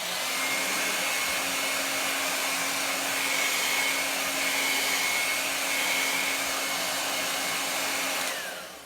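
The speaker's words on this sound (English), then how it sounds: "I'm just going to hit this with my dryer one more time." A heat dryer blows steadily with a loud, constant whooshing hiss and a faint whine, running continuously before cutting off at the end.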